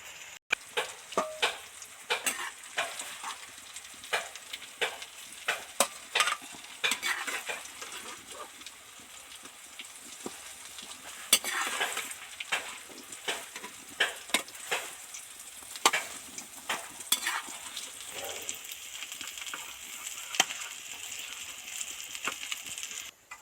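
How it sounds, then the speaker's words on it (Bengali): Potato and egg pakoras deep-frying in oil over a low flame, a soft bubbling sizzle dotted with many small crackles and light clicks of utensils throughout, close and quiet with no voices. "আস্তে একটু গুপ করে ভাজা হচ্ছে"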